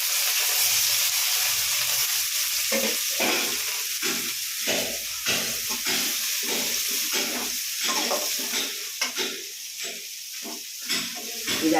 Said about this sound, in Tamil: இந்த வெங்காயம் போடுறேன். வெங்காயம், கருவேப்பிலை.